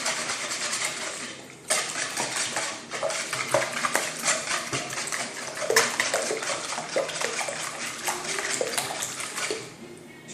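A spoon stirs chocolate cake batter in a bowl, a continuous wet churning with clinks against the side, loud and close for about ten seconds.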